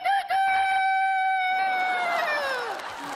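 A man mimics a rooster's cock-a-doodle-doo with his voice, one long sustained crow rising then sliding down at the end, loud and close with no other sound.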